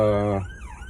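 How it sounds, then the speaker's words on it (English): An ambulance siren on a UK road between Brighton and Worthing wails loudly at first, its tone then sliding lower and fainter as the vehicle goes past, heard from inside a moving car. "Let's wait for this ambulance to go past."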